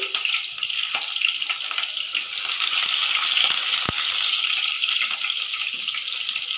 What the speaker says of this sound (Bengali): একটু হালকা আমি রসুনটা ভেজে নিচ্ছি।